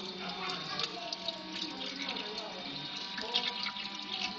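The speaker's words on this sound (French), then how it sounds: "Après, vous avez de l'eau qui coule." A steady stream of water flows from an automatic hand-washing device, splashing close and continuous, while someone speaks over it.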